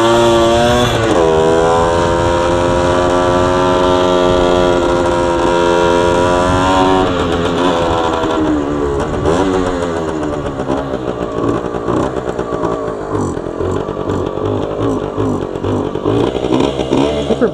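A Yamaha 80 Enduro dirt bike rides through snow, its small engine buzzing steadily and loud up close, revs climbing and dipping as it rolls along, with wind noise over the microphone.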